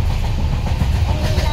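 Inside the carriage of a moving train on a Thane to Kankavali run through the Konkan, a steady low rumble with faint rhythmic wheel clatter, close and continuous, while people talk over it.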